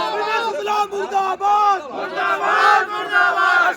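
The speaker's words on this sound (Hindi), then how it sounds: "वहां जो हंगामा खड़ा किया, पहले आप उसे देखिए और सुनिए" A protest crowd shouting together in a loud, continuous uproar of many voices raised in chants and cries, close and dense throughout, in a dispute over demolition of a settlement in Indore.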